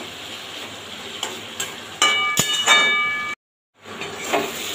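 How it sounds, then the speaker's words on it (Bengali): Eggplant and water lily stems frying in fish oil over high heat, a low background sizzle with sharp metallic clangs and a ringing ding from the pan, then a brief cut to silence before the sizzle returns. "আর ঢাকা দেবো না, এবার ভাজবো হাই হিটে।"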